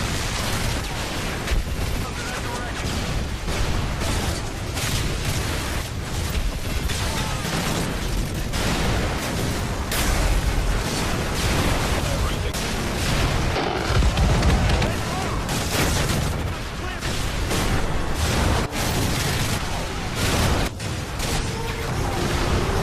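Constant explosions in the video game Call of Duty Modern Warfare 3, a dense, loud barrage of booms, bursts and crashing debris with barely a pause, a voice running under the chaos.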